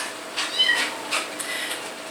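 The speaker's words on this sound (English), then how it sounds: "they've caught a bunch of those wild kitties" Wild kittens meowing outdoors, several short high cries spread through a couple of seconds, moderately near over a steady background hiss.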